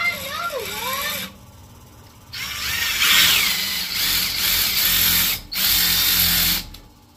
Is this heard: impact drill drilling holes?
yes